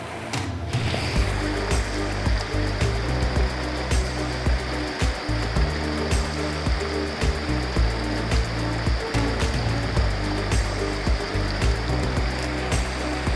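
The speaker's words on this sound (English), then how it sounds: "This is our first river or big river crossing in the Sierras." A big river in the Sierra Nevada rushes at a backcountry crossing on the Pacific Crest Trail near Forester Pass, a loud constant roar of churning water close by with slight rhythmic surges.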